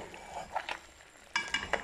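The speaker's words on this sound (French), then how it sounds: "Je vais mélanger." Guinea fowl kedjenou ingredients are stirred in a pot, giving a few short scraping, rustling bursts that are close and moderately loud, with a cluster of strokes near the end.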